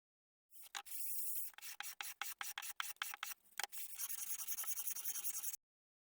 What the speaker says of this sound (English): All the pieces are sanded using 220 grit.